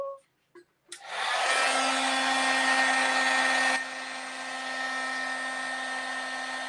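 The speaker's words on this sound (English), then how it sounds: "So back to the heat embossing." After a few faint clicks, a heat embossing tool switches on and blows hot air with a loud, steady whirring hiss that drops slightly in level partway through and keeps running to the end.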